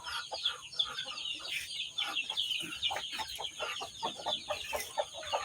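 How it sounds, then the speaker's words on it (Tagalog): Chickens cluck repeatedly in short, busy bursts close by, a lively overlapping chatter of fowl with a faint steady background hum. "Ito yung makulit na manok ha."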